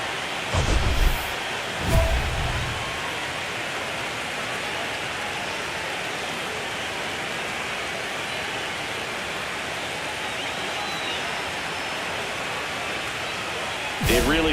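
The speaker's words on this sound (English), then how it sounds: "This rain is not letting up." Steady heavy rain pours across a ballpark in MLB The Show 25 as the Dodgers lead the Cubs, a dense continuous hiss broken by a few low thumps near the start and end.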